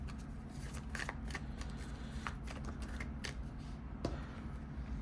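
Tarot cards being shuffled by hand during a reading, a soft steady papery riffle with crisp flicks and taps standing out now and then, close and quiet with no talking.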